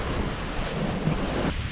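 Strong wind roars and waves wash around a sailboat crossing the Atlantic at sea in 12 to 20 knots of wind, a loud steady rush with no voices.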